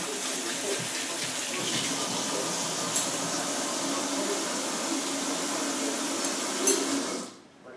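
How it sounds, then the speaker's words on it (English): Steady broadband rush of a tap running into a sink in a kitchen during rib preparation for smoking, continuous and fairly close for several seconds before cutting off near the end. "Sorry about the water running like that."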